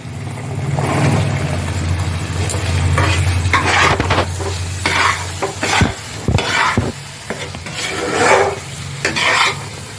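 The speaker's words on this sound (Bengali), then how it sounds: "তো এখন আমি মশলার মধ্যে রাজমা দিয়ে দেবো।" Soaked, pressure-cooked kidney beans (rajma) are tipped into a frying masala and stirred, giving a steady close sizzle with irregular scraping and clinking of a spoon in the pan, no voices.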